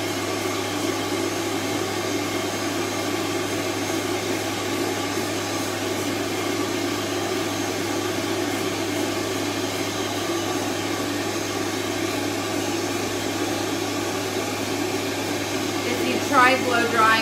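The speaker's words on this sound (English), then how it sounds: "Try blow drying with the stand dryer straight from the tub" A stand dryer blows steadily and loudly on a Coton de Tulear dog fresh from the tub, a constant whooshing roar with a brief burst of extra noise near the end.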